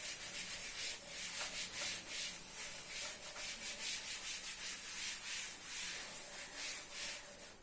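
A leaf is rubbed by hand in a steady, soft, rhythmic scratchy brushing, repeated strokes close up and faint, with no talking.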